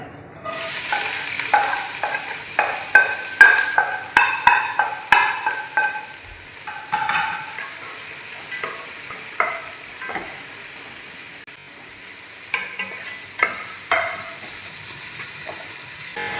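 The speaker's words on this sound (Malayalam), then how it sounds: "ഇതിലേക്ക് കുറച്ച് കോക്കനട്ട് ഓയിൽ ഒഴിച്ച് കൊടുത്തിരിക്കുന്നു. ഒന്ന് ചൂടായി വന്നിട്ടുണ്ട്. അതിലേക്ക് നമ്മളുടെ ഒനിയൻ ഇട്ട് കൊടുക്കുകയാണ്." Onions frying in heated coconut oil for a South Indian chicken Chettinad curry, a steady close sizzle and hiss with repeated stirring scrapes and clatters of a utensil against the pan.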